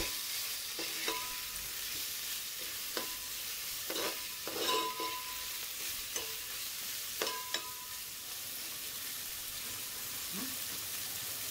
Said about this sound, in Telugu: ఇలా చిన్నగా ముక్కలు చేసుకొని దీన్ని కూడా మంచిగా ఇలా ఫ్రై చేసుకోవాలి